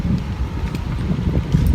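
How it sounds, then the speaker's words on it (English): Low, steady wind rumble buffeting the microphone, with soft gusty swells and no voices. "It's getting a little windy."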